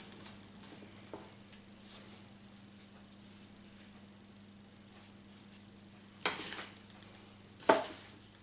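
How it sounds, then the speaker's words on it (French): Two savoury cookie dough mixtures are stirred together in a bowl: a quiet background with a few faint taps, then two brief, close scraping bursts near the end. "On commence déjà par mélanger un petit peu ces deux préparations."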